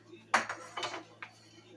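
Metal spoons clink and clatter as they are set down in a kitchen drawer, with a few separate sharp jingles close by and no talking.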